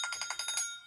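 A short electronic alarm ringing in a rapid pulsing pattern of about seven quick, bright tones in under a second, fairly faint and alone.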